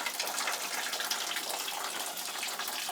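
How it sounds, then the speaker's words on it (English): Water drains steadily through the grain bed of an all-grain brewing mash, making a continuous hissing, trickling wash that stays close and even throughout. "As the water drains out of the grains will compact and act as a filter."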